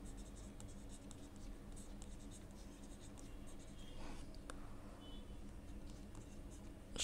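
Pen scratches quietly across paper while a math solution is written out, continuous small strokes and taps with faint room noise, no talking.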